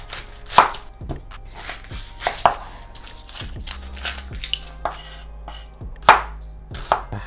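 A knife chopping onions on a cutting board in a home kitchen during keto meal prep, with repeated sharp, close chops in an irregular rhythm, no talk.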